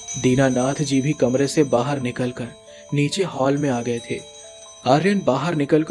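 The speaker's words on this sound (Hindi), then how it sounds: "पूरे घर में आर्यन की आरती करने की आवाज और घंटी बजाने की आवाज गूंज रही होती है।" A small aarti prayer bell rings in a bright, sustained chime through an audio drama scene, sitting beneath continuous narration.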